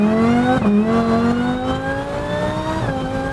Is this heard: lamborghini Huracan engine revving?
yes